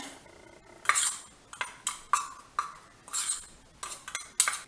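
A spoon stirs cocoa powder into a homemade malted health drink mix in a bowl, making a series of close, scraping, clinking strokes in an uneven rhythm with no talking.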